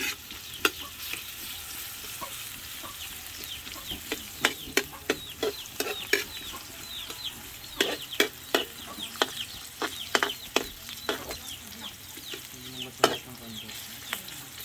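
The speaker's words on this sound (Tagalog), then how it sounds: "Ilagay ang sibuyas. At halu-haluin." Onion being stirred while frying outdoors at a farm, a steady low sizzle punctuated by frequent sharp scraping and clacking strokes of the spatula, with a chicken clucking faintly in the background.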